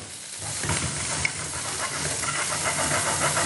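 Sliced bell pepper sizzles in olive or sunflower oil, making a continuous, even, fairly loud hiss with no voices.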